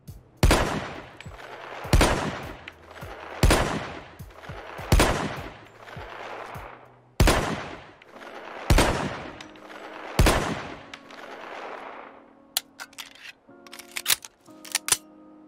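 A heavy Wildey Survivor pistol modded into the game Fallout 4 fires seven loud, booming single shots at roughly regular intervals, each with a ringing tail, followed by sharp metallic clicks and clacks of reloading near the end.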